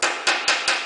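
A hammer strikes stainless steel trim to flatten it: four crisp, ringing metallic blows in quick, even succession, each one decaying briefly before the next.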